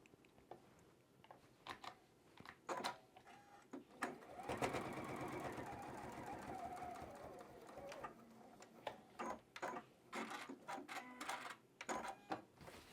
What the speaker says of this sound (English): Just a little bit of a basting stitch if you want to call it that.